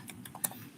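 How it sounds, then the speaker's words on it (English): A few light key taps on a computer keyboard as a search query is typed, sharp and quick, with one louder click near the end, close and quiet. "So I'm gonna type artificial"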